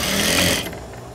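A sewing machine stitches a French seam, a loud close motor whir that slows and drops off halfway through as it back stitches at the end.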